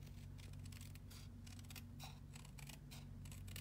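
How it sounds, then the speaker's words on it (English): Scissors snipping through stiff card, a quick series of crisp cuts, faint and close against a low steady hum. "You'll notice I'm not lifting my scissors up off of"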